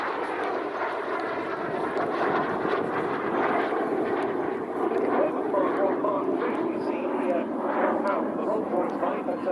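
A jet aircraft powered by a Rolls-Royce Viper turbojet passes at the RAF Cosford air show, producing a continuous broad roar that stays loud and steady throughout.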